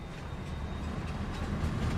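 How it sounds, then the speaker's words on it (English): An electric train starting up in Farming Simulator 22, a steady low rumble and hum with faint rail clatter, continuous and fairly close, with no talk. "Let's start the engine."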